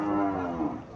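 Sahiwal bull calves lowing at a busy cattle market in Chandinamura, Cumilla; a single loud, drawn-out moo close by, with no talk over it.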